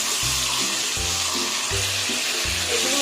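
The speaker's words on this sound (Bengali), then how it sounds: "এভাবে এগুলো আমি ভেজে নেব।" Pointed gourd (potol) pieces sizzle steadily as they fry in hot oil in a pan, a constant bright hiss with soft periodic low thumps beneath it.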